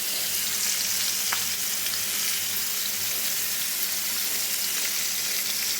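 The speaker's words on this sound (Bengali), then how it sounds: "ইলিশ মাছের পেটিগুলি ভেজে" Hilsa fish belly pieces sizzle and crackle steadily in hot oil, a constant close frying hiss with occasional small pops.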